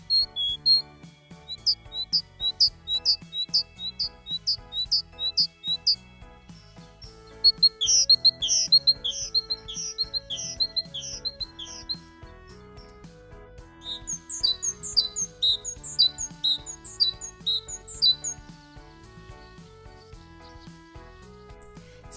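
A titmouse sings in winter, repeating bright high chirping phrases in several bursts, with a light ticking and clicking background running underneath.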